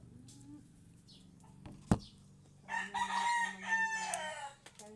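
A rooster crows once, loud and close, in a long harsh call that follows a sharp knock, against a quiet backyard background with faint clucking beforehand.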